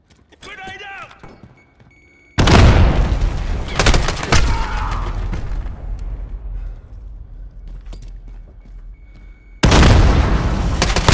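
A grenade blast and bursts of gunfire in Call of Duty Modern Warfare: loud booming explosions with sharp rattling shots, a quieter rumbling stretch in between, and a voice briefly heard at the start.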